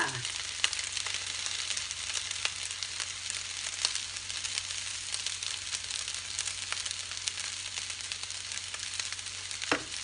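Rice frying in a pan with gochujang and oyster sauce, a steady close sizzle hissing continuously throughout with faint scraping stirs.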